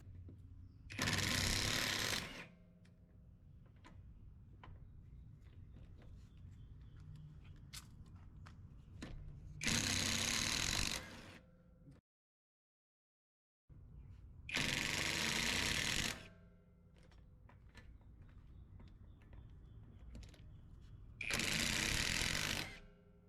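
A Bauer 20v cordless brushless impact driver hammers lug nuts off the wheels of a base model Mustang in four loud, rapid rattling bursts of a couple of seconds each, separated by quieter handling noise and one silent gap.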